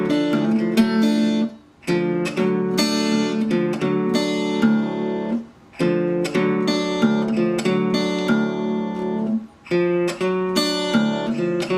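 Acoustic guitar picking a triad sequence from Skip James' Illinois Blues, thumb pulsing a steady bass under the chords, played up close in three phrases separated by brief pauses.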